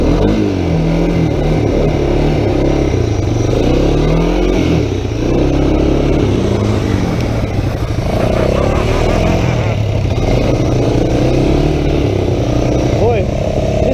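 A vehicle engine revs hard and drones continuously while floored on ice, loud and close, its pitch rising and falling as a voice talks over it.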